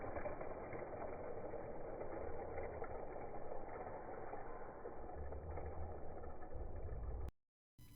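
Race car engines idle in a steady, low, muffled rumble that stays faint and continuous, then cuts off abruptly at the end.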